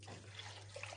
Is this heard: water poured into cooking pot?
yes